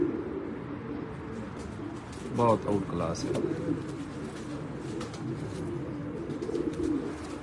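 Pigeons coo softly near a rooftop loft, with a few short bursts of cooing and wingy bird sounds over a low background while someone talks throughout.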